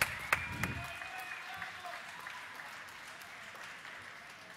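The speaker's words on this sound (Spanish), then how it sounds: "Un fuerte aplauso para ellos" An audience at a Counter-Strike: Source grand final esports event breaks into applause, a loud opening burst that settles into steady clapping and cheering, with a host's voice briefly over it at the start.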